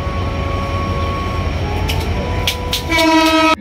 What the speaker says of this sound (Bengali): ট্রেনটা ছাড়া দিল তাই।